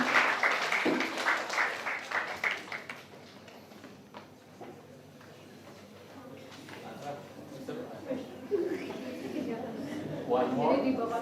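Applause from a seminar audience welcoming an associate professor as the morning speaker, a dense burst of clapping at the start that thins out, followed by a murmur of voices and scattered claps.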